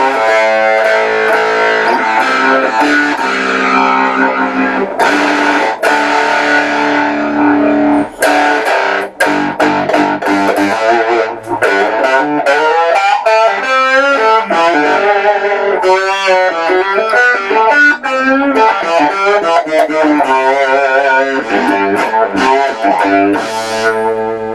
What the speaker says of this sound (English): We're going to turn the distortion up a little bit. Turn it up halfway.